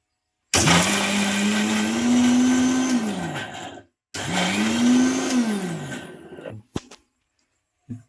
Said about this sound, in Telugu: ఇవన్నీ వేసి బాగా మెత్తగా రుబ్బుకుందాం.